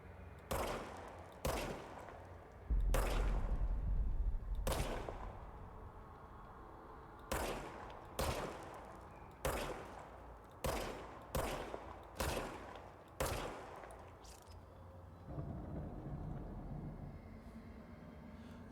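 The service weapon in the video game Control fires a long run of separate, loud, close shots at an uneven rhythm, with a heavy rumble near the start and a low ambient hum toward the end.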